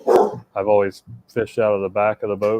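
A pet dog barks and yips loudly in short repeated bursts, overlapping someone talking nearby while he is out fishing from a boat.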